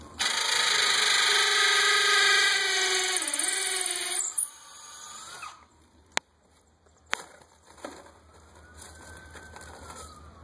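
A power drill finishes drilling a hole in a column for mounting a wrought iron gate, a loud sustained whine that bogs down briefly and then winds down, followed by a couple of sharp knocks and quiet handling.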